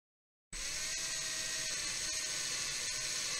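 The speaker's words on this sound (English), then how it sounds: "So I'm going to drill right through there." A high-pitched electric drill whines steadily and loudly after a brief silence, running continuously at constant speed as it bores a hole into the ear of a homemade binaural microphone.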